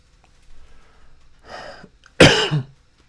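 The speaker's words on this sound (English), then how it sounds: "I coughed into the mic" A man coughs into a close microphone: a soft breathy exhale, then one loud, harsh cough burst that fades into a throaty tail.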